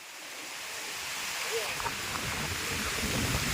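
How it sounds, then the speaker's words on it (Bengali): A storm batters a canal bank during Cyclone Remal, its wind and heavy rain making a continuous broadband roar that builds gradually and stays loud and close throughout. "খাল পাড়ে এসছি তো এত ঝড় হচ্ছে, প্রচন্ড বৃষ্টি হচ্ছে"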